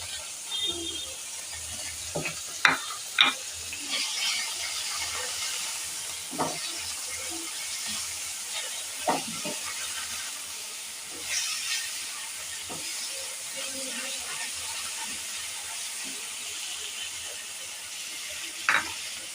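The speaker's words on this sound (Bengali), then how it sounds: "মাংসটা আমি সয়া সস দিয়ে ভাজবো, লবণ দিব না।" Small chicken pieces frying in a pan with soy sauce, a constant hiss and sizzle with occasional clicks and taps of a utensil, moderately quiet and with no talk.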